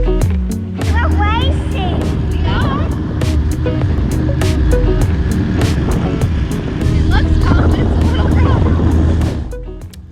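A small dinghy motors across shallow water near a coral reef, giving a steady, close engine drone and water rush that runs the whole time, with voices now and then over it.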